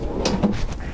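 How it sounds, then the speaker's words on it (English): Pots and pans drawer in a 2014 Prime Time Avenger 23FBS travel trailer sliding open, a few close soft rolling thuds and clicks within about a second, no speech. "Pots and pan drawer."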